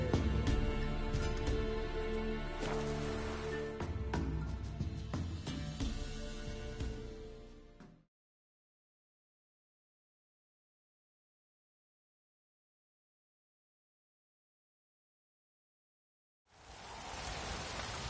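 Steady heavy downpour of rain in the video game Witcher 3, a dense continuous hiss for several seconds, then it cuts to silence before resuming.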